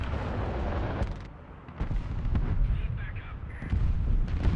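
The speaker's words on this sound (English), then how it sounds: "The BMP firing." A BMP armored vehicle fires in a tank simulator video game, producing heavy booming cannon blasts and a dense low rumble that fills the scene, with battle noise throughout.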